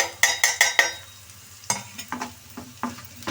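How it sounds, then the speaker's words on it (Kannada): Eggs fry with chili powder and salt in a pan, heard as a soft sizzle under four quick, sharp metallic taps followed by several irregular scraping stirs close by. "ಚೆನ್ನಾಗಿ ಫ್ರೈ ಆಗ್ತಾಯಿದೆ."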